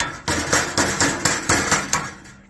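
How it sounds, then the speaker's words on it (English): A mallet hammers a seam flat on sheet metal during HVAC duct fabrication, about six loud, sharp, ringing blows at a steady half-second rhythm, close by with no talking. "you're going to take your mallet and just hammer that"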